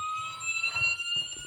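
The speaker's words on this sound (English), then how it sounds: "Now your siren will work." A diecast Florida Highway Patrol Dodge Charger model plays its electronic police siren, a short, thin, high wailing tone that rises and falls, close and fairly loud.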